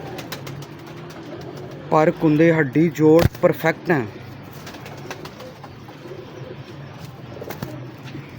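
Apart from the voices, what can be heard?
pigeons cooing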